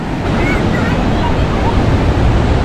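Surf and sea waves at Paradise Beach, Pondicherry, with steady wind buffeting the microphone; a loud, continuous broadband rush with no pauses.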